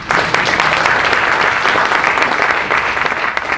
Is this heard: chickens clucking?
no